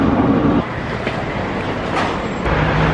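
Metro train ride into Barcelona heard from inside the car, a loud steady rumble and roar of the wheels and motors with faint rail clatter and occasional squeaks throughout.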